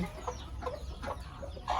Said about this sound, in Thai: ให้แม่ไก่บ้านฟักไข่เป็ดค่ะ